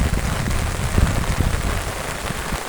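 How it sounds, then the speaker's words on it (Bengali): Heavy morning rain pours steadily onto flooded streets and surfaces, a dense continuous hiss of drops close by with no voices. "অতি বৃষ্টির কারণে শুধু চারিদিকে পানি আর পানি।"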